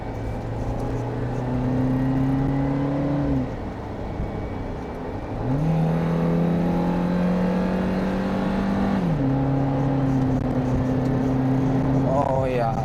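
A 2025 Suzuki Jimny 5-door on a test drive, its engine droning at a steady pitch that falls, then climbs again as it pulls through the gears, sounding close with a faint background hum.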